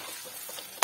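Radish pickle with cumin and red chili powder frying in a pan, a brief steady sizzle with faint stirring scrapes, ending in one sharp clack of the utensil.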